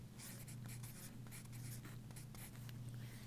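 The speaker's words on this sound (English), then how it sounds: "you can write happy" A pen scratches steadily across paper, lettering the word happy onto a rectangle in a cartoon birthday cake drawing; continuous close strokes over a low steady hum, no talking.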